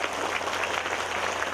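A crowd at a Tabligh Akbar religious lecture in Taiwan claps in sustained, even applause, a thick wall of hand claps with no talking over it.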